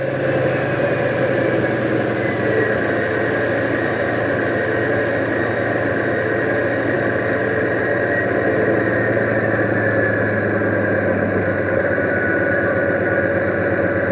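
A model railway HST with EM2 speakers plays a diesel engine burble, loud and steady with an even, throbbing idle that holds its rhythm throughout.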